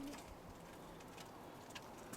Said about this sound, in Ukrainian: Так, тут є кари голуб'ята.